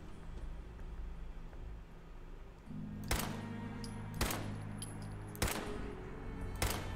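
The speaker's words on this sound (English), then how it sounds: "Not doing so good shooting at this one." Gunfire in the video game Fallout 4: four sharp, spaced single shots ringing out at steady intervals over a low background hum that shifts partway through.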